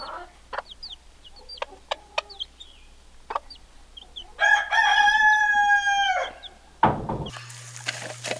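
Chickens cluck in short scattered calls inside a homestead barn, then a rooster lets out one loud, drawn-out crow near the mic, followed by a brief knock and a low hum.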